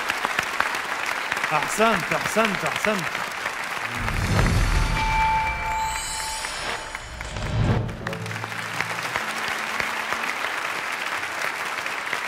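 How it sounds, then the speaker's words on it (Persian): Studio audience applauds on a Persian-language Quran recitation competition show, a steady broadband clatter of clapping running through the whole span, with someone briefly speaking over it near the start and low thumps in the middle. "رشیدزاده عزیز رو تشویق بکنید."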